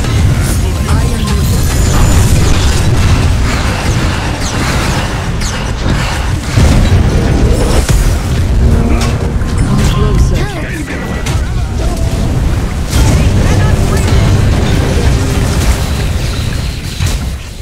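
Booming crashes and explosive rumbles as a juggernaut structure is destroyed in the video game SMITE, loud and continuous, with in-game voice lines speaking over the destruction.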